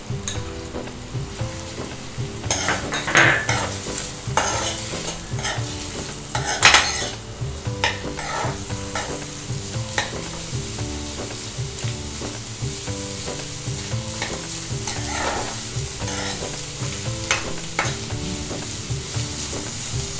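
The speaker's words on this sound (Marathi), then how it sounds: "कांदा साधारण गुलाबी झाला की लगेच आता आपण टोमॅटो टाकणार." Chopped onions and tomatoes frying in a pan for baida masala, a dense steady sizzle with repeated scraping and clinking of a spatula as they are stirred, close and continuous.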